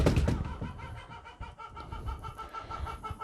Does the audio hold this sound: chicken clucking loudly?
yes